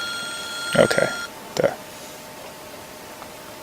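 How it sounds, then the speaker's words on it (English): A telephone rings briefly with a steady electronic tone that stops after about a second, and someone speaks over and after it. "phone ringing"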